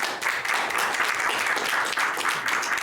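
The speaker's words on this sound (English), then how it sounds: "Let's give him a round of applause" Audience applause after a seminar talk on ancient rocks and water resources, a dense steady patter of many hands clapping close by throughout.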